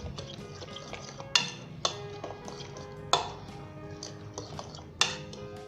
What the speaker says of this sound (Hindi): तो दोस्तों हम इसे मिक्स कर लेंगे अच्छे तरीके के साथ।